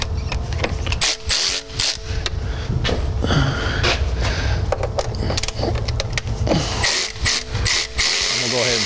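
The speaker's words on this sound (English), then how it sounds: "Loosen this bolt." A ratchet loosens a bolt during a pressure enhancer install on a 2011-2018 Ford Powerstroke 6.7L, with loud, close, rapid clicking in repeated runs, short pauses between strokes, and brief metallic clanks.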